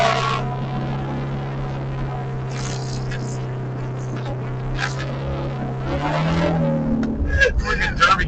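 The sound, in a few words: loud car exhaust while driving, sounds like a rally car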